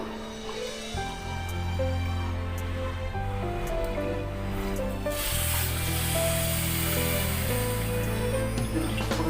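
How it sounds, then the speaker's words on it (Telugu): Water being poured onto sugar in a pot to make jalebi syrup, a steady rushing splash that swells in the second half, close by, under continuous background music. "మూడు కప్పులు చక్కెరకు గాను ఒకటిన్నర కప్పు వాటర్ తీసుకోమన్నారు"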